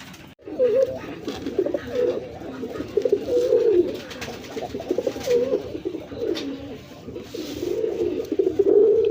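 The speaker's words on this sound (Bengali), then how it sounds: "বন্ধুরা এখানে একজোড়া ময়না ঝাক কবুতর আছে দেখেন" A pair of Moyna jhak pigeons coo steadily and close, the male giving repeated rolling coos in a continuous series with no one talking.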